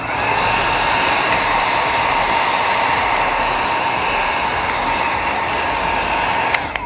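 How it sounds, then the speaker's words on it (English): A heat gun blows steadily close by, sealing the edge of chrome delete vinyl wrap on the side trim of a 2014-2020 Lexus IS, a continuous loud airy whoosh with a faint tonal whine and a brief click near the end. "grab your heat device to seal the edge, that way it doesn't lift"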